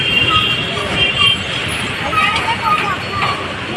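Road traffic passing on a route, a continuous roar of vehicle engines and tyres with a faint horn or two, fairly loud, with people's voices heard over it.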